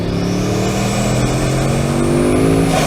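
A Bugatti W16 engine revs hard and climbs steadily in pitch, with a rising turbo whine as it switches from two to four turbos, layered over the deep roar, loud and close.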